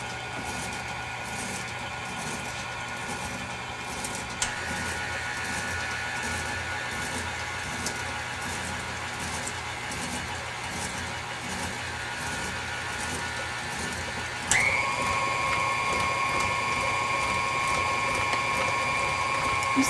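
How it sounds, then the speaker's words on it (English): A stand mixer whirs steadily as it beats pound cake batter with extract, a continuous mechanical hum with a faint rhythmic rattle that shifts abruptly in pitch twice as the speed changes. "Let me let this mix a minute and then we're going to start with our flour."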